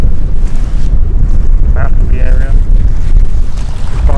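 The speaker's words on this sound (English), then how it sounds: "It's a bit windy" Wind buffets the microphone in a steady, heavy rumble that lasts the whole time, with brief faint tones passing in the middle.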